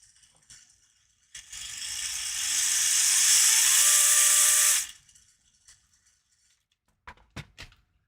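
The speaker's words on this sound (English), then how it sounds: "What you are hearing is mostly this top universal shaft" RC crawler drivetrain whirs as its top universal shaft spins fast, a loud rising mechanical whine building for a few seconds then cutting off, followed by faint clicks.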